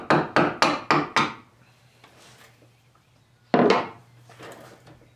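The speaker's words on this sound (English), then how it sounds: "bevel along the rub rail to prevent the chisel from digging in too deep, and just trim the plug flush" A chisel trims a wooden plug flush on a wooden sailboat's rub rail: five quick sharp wooden taps in a row, a pause with soft scraping, then one more crisp strike, close and loud.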